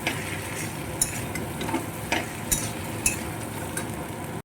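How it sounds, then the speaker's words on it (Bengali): Prawns frying with spices in a pan over a soft continuous sizzle, with a spatula stirring and occasionally scraping and clicking against the metal in a few sharp, separate knocks. "এবার চিংড়ি মাছটা একটু কষিয়ে নেব মশলার সঙ্গে"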